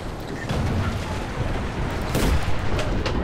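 A battle in the World War II shooter Enlisted, with a dense, continuous roar of gunfire and rumbling blasts, and a louder explosive burst surging in near the end.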